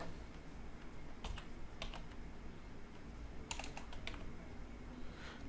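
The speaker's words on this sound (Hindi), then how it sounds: "अभी मैं लिखूँ टाइप करूँ तो यहाँ से" Quiet typing on a computer keyboard, with a few short bursts of key clicks separated by pauses over a low background hum; no talking.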